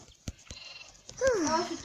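Sheep bleating in the Minecraft video game, a single wavering bleat following a few soft clicks and taps, heard close and clear.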